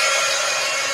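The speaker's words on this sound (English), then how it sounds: "Heat gun alert." Heat gun blowing, a loud continuous rushing hiss close by, steady throughout with no pauses.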